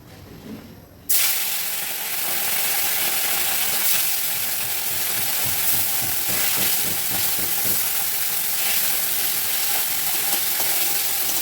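Bairali fish frying in a pan with steady, loud sizzling and hissing oil that starts abruptly after a brief quiet moment and continues unbroken, with faint spatter crackles throughout.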